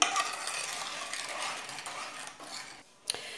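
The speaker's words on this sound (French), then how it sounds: "Et continuer à mélanger sans s'arrêter jusqu'à épaississement" A utensil stirs lemon tart cream in a pan over low heat, giving soft, continuous scraping and swishing close by, with a sharp clink near the end.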